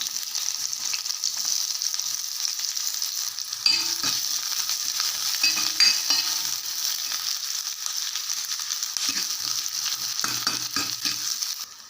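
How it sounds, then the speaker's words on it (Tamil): Onions sizzle steadily in hot oil in an iron pan, a continuous crackling hiss with occasional scraping stirs, close up and no talking. "இதில் நறுக்கி வச்ச அந்த ஒரு வெங்காயத்தை போட்டுக்கலாம்"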